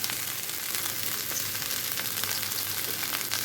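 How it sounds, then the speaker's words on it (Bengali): Chopped onion and green chili frying in oil in a pan for a raw banana and katla fish dish, a steady dense sizzle that holds evenly throughout with no one speaking. "তারপরে আমি এখানে পেঁয়াজ কুচি, মরিচ কুচি দিয়ে দিলাম।"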